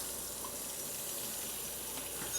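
Photographic fixer poured through a funnel during kitchen black-and-white film developing, a steady, continuous liquid pour that runs evenly throughout at moderate loudness with no talk.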